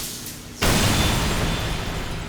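A sudden loud blast of a phone exploding in a microwave oven erupts after a brief quieter moment, then a broad roaring rumble sustains without fading.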